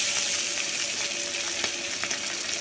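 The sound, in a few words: hilsa fish tail frying in hot oil in a wok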